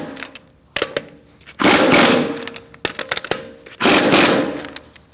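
Lug bolts on a Mercedes-Benz C300 wheel being run in with a 17 mm socket, heard as two loud sustained bursts of a power tool with sharp clicks and knocks between them, close up and without talk.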